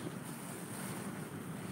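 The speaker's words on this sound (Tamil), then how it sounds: "இங்கே பயங்கரமான ஒரு காற்று, இதுக்கு பேர் தான் புயல் காற்று" Strong cyclone wind blowing outside during a power cut, a steady dense roar heard from indoors, faint and even throughout.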